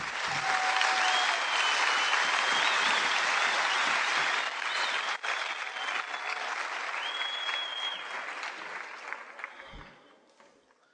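Sustained audience applause at a university conference, dense steady clapping that carries for about nine seconds before thinning out and fading near the end.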